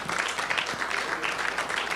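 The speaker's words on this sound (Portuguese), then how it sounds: "aplauda Jesus, o autor e o consumador da nossa fé" A church congregation applauds for Jesus at the close of a sermon, a steady wash of many hands clapping together throughout, fairly loud and even with no voice above it.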